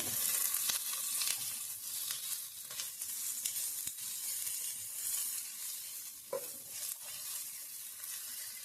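Curry leaves wilting in hot oil in a pan for an onion chutney, producing a bright, steady, close sizzle with occasional crackles and stirring clicks throughout.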